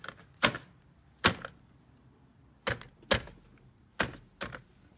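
Sharp plastic clicks and snaps sound as parts are pressed into place during reassembly of a BMW N46 engine, about six crisp, close taps spaced irregularly over a quiet background.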